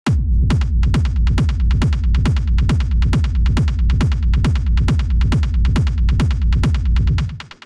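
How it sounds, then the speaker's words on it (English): A punchy industrial techno kick drum pounds in a steady, fast four-on-the-floor pulse, loud and alone, then cuts off at the end. "So this is a pretty straightforward kick"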